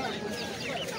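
Chickens cluck softly at a wholesale poultry market, a brief, faint burst of clucking over a dense background of mixed market noise.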